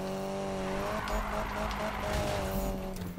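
A car drifts and crashes in a racing video game: a continuous engine drone with screeching tire squeal, shifting in intensity throughout.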